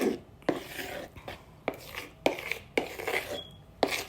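A spatula folds Oreo bundt cake batter with self-rising flour in a bowl, each stroke a distinct thud-and-scrape. The strokes repeat roughly every half second, close and clear.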